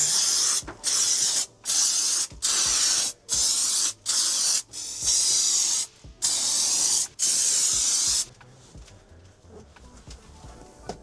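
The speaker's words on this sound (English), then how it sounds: "You can use little single application spray cans. Because we use it a lot, we have a large canister." Adhesive sprayed from a large pressurised canister onto van panels during a MAN TGE campervan build: a run of loud hissing bursts, each a second or so long with short gaps, ending in quieter workshop noise.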